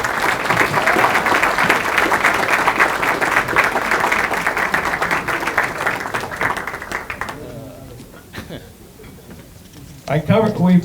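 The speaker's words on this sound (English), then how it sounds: "Round of applause." Sustained crowd applause at a community organization's annual meeting that fades out after about seven seconds, followed by a few scattered claps and a voice starting to speak.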